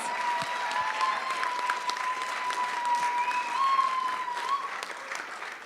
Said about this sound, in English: I just want to thank you for the round of applause